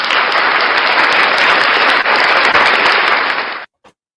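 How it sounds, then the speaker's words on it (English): Sustained applause from a crowd fills the space, dense and loud for several seconds before cutting off abruptly, followed by a brief faint trailing clap. "Round of applause for Unclean Hands."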